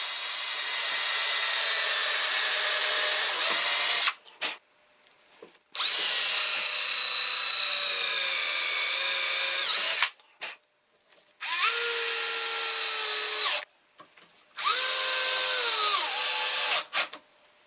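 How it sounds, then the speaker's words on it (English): Power drill driving reinforcement screws into a wooden circular-saw jig: four loud bursts of whirring, each several seconds long, separated by short pauses, with pitch sagging as each screw seats, close and alone. "I insert reinforcement screws."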